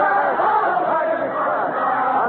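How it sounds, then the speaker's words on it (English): A large crowd sings and shouts in a continuous, dense roar at the storming of the Bastille in Paris, July 1789, heard as a steady mass of voices without a break. "The crowd is still singing. I hope you can hear them."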